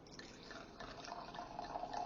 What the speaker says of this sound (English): So let's give it a pour.